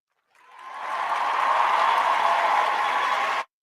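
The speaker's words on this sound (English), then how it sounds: "Let me give a round of applause." A steady round of crowd applause at a sports-talk gathering rises quickly, holds dense and loud for about three seconds, then cuts off abruptly.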